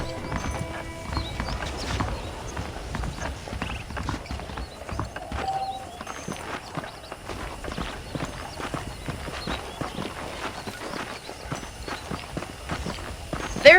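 Saddled horses in the Red Dead Redemption video game walk with continuous clip-clopping hooves at a steady rhythm, with faint ambient game sound underneath.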